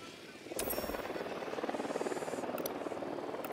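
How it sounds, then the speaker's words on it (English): A drone in the Ghost Recon Wildlands video game flies with a steady whirring rotor buzz that swells in and stays loud and continuous, with faint game chatter underneath. "Drone is airborne."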